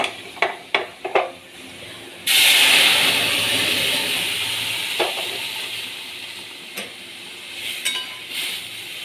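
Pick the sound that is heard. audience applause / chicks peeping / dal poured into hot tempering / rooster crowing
dal poured into hot tempering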